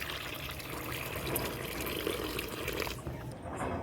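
Cold water pours out in a steady, close splashing trickle that continues evenly for a few seconds, with no talk over it.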